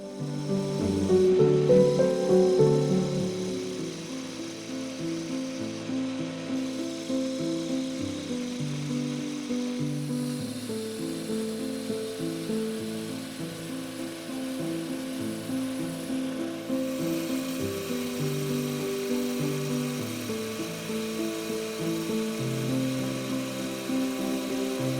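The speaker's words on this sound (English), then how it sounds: "With the ball gouge, I will be reducing fast the bulk of the wood to begin to shape the spoon handle" A ball gouge cuts into spinning wood on a lathe, roughing out a wooden spoon handle with a steady scraping, rumbling hum that varies slightly as the tool moves, continuous and fairly close.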